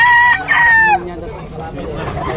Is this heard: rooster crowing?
yes